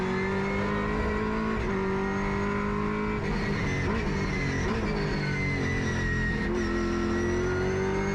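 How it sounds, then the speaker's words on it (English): Onboard a V8 race car at Winton circuit, the engine roars loud and steady with shifting pitch as the car rides over the ripple strips through turns one and two, no voices present. "Let's stay on board with this great race driver, Travis Condon, as he mounts the ripple strips through turn 1 and 2."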